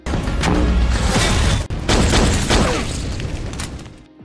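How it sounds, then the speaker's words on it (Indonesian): A loud explosion blast from an action series, a sustained roaring burst with a brief dropout midway, then rumbling debris fading out over a few seconds. "Setelah itu terjadilah ledakan di dekat Julius dan istrinya"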